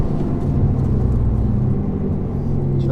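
Renault Mégane 4 RS Trophy-R being driven on a race circuit, a steady, loud, low engine rumble that holds constant throughout with no clear gear changes.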